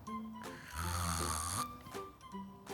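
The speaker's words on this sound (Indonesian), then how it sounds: "tidur dia ngorok" A person snores while asleep, giving one long, loud, rasping inhale and then quieter, shorter snorts, close and clear with no talking.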